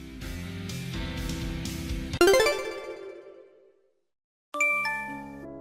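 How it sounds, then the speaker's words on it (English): Phone notification chimes ring in bright, melodic tones, first a rising run of chimes, then a ringing decay into silence and a second chime sequence, loud and close with no speech. "I thought the notifications were annoying"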